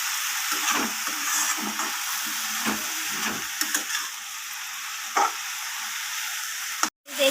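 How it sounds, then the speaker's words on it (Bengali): Fourteen kinds of leafy greens stir-fry in a pan, a continuous hissing sizzle broken by intermittent scraping and tossing strokes of a spatula, close and steady, with a brief cutoff near the end. "নাড়াচাড়া করে এইভাবে ভেজে নেব"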